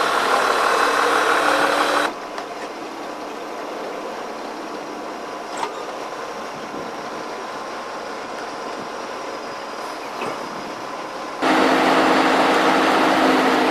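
A hemp decorticator machine's engine drones steadily at a low, even level through the middle stretch, framed by louder, harsher bursts of machinery noise at the start and the end, with no voices.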